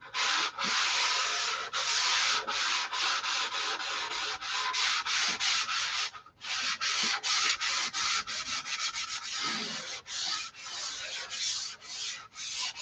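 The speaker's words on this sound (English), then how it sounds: "Wonder if I could sand it and help it along." The finish on a control line stunt model plane is sanded by hand in steady back-and-forth strokes, close and loud, with one brief pause midway.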